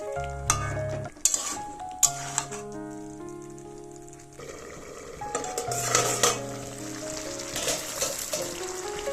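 Drumstick pods being sautéed and stirred in a pan for a fish curry, with steady sizzling, repeated scraping stirs and occasional sharp clinks of a utensil against the pan, close and fairly loud, no talking.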